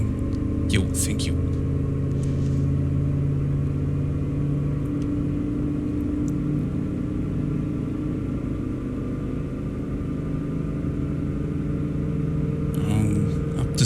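A Rolls-Royce car engine droning at very low revs in American Truck Simulator, a steady deep rumble running throughout with talk over it and a couple of brief sharp clicks.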